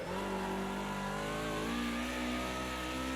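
A BMW M3 Sport EVO Group A race car engine from the Project CARS 2 game at Bathurst revs loudly and continuously, its pitch dipping and climbing as it shifts gears, with no talk.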